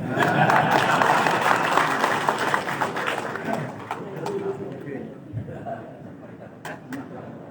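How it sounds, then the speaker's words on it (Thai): A crowd applauds at a Thai political party's launch of prospective parliamentary candidates. Loud clapping at the start fades away after a few seconds, and scattered sounds and voices follow. "ขอเสียงปรบมือให้อีกครั้งค่ะ"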